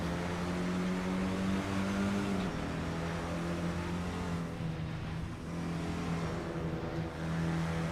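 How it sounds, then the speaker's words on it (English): Renault Clio cup race car engine in a sim racing game at Zwartkops, a steady droning engine note with throttle feathered through a hard right hairpin, loud and continuous throughout with no talk. "Just feathering the throttle there through T1 into the hard right 180 of T2."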